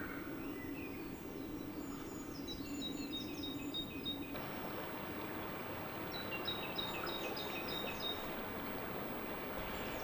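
Birds sing in quick, bright trills beside a flowing creek, the phrases repeating at moderate distance over a constant wash of running water.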